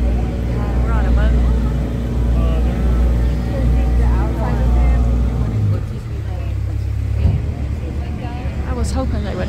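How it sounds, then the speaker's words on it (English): A boat engine on a scenic ride to Tom Sawyer Island drones low and steady while people talk nearby, with water and wind noise filling the background. "We're on a boat."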